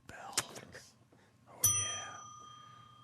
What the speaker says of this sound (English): Give yourself a bell.